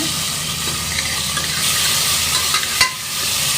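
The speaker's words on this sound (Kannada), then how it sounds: "ಫ್ರೈ ಮಾಡ್ಕೊಳ್ಳೋಣ, ಬ್ರೌನ್ ಕಲರ್ ಬರೋವರೆಗೂ." Frying in a pan while cooking sprouted-bean sambar: a loud continuous sizzle and hiss of food in hot oil, with a brief scrape of stirring near the end.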